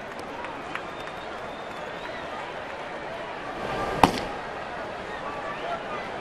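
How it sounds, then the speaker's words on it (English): A baseball stadium crowd at a Texas–Boston game keeps up a steady, distant murmur after a two-run homer tied the score, with one sharp crack partway through. "Crowd still buzzing over that 2-run homer to tie the game."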